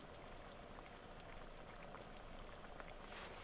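Water bubbles at a boil in a pot on a camp stove at a rainy tent campsite, a faint, steady, dense seething hiss with small pops throughout.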